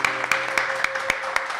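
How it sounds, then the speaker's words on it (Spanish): An audience at a live folk music performance applauds with a busy patter of clapping and sharp, regularly spaced claps standing out, over a faint sustained tone. "este fuerte aplauso para ella"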